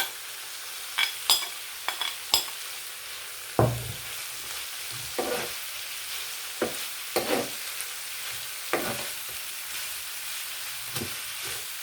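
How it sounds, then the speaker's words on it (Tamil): Fried fish being stirred into a pan of sautéed ingredients, giving a steady soft sizzle broken by repeated sharp scraping and stirring clatters, close and moderately loud, with no talk. "இப்போ இந்த பொரிச்ச மீனை இதில் சேர்த்துக்கலாம்"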